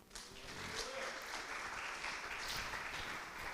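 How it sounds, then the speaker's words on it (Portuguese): Church congregation clapping for the Lord during a sermon, a steady wash of applause that holds evenly from start to finish, somewhat distant and soft. "Tenha coragem, aplauda o Senhor"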